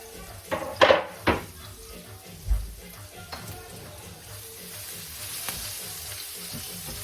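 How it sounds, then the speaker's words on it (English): Chopped ginger and garlic drop into a hot pan with a few sharp clatters and a thump, then settle into a soft, continuous frying sizzle. "You put the ginger and the garlic that you chopped up"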